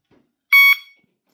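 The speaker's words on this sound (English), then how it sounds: "Obviously I don't have to have the siren chirps on" A single short electronic siren chirp from a Teltonika GN8 vehicle alarm, sharp and loud, sounding once in otherwise silent surroundings.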